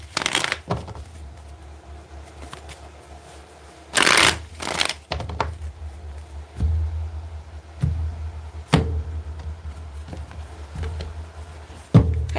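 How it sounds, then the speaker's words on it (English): Cards are shuffled in several bursts, riffles and quick slaps up close, separated by quieter handling of the deck. "Let's get two more shuffles here."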